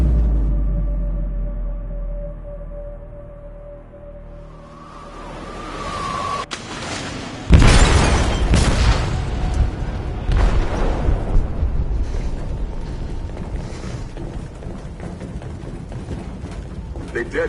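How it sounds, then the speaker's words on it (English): An explosive goes off in a ship's hold in Detroit: Become Human: a low rumble builds, a sudden loud boom hits, and heavy crashing and rumbling carry on afterward. "They detonated an explosive in the hold."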